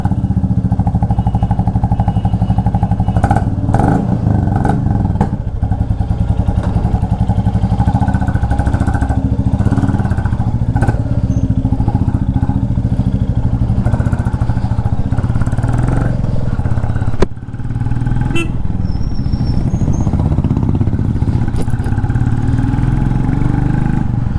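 A Royal Enfield Classic 350 Reborn motorcycle idles steadily nearby for the whole stretch, a continuous thumping single-cylinder drone with a brief dip near the end and no voices.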